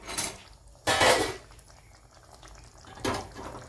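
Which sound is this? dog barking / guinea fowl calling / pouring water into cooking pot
pouring water into cooking pot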